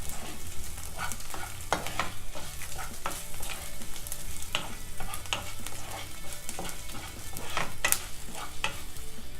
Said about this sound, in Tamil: இப்போ இந்த மிளகாவையும் நல்லா வதக்கிக்கலாம்.